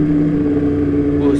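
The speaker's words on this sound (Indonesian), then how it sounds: "Buset, berisik juga ya knalpotnya" Loud, steady engine drone from a motorcycle exhaust while touring, with a strong low hum held throughout and a brief rise near the end, heard up close.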